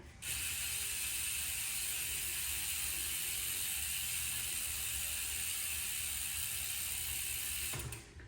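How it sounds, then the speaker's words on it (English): A JGBike high-engagement rear hub freewheeling on an Ozark Trail full-suspension bicycle gives a loud, continuous, fine buzzing ratchet whir, close and steady for several seconds before stopping abruptly, with no voices. "they got that same high engagement hub. And they have always sounded like this, even from brand new"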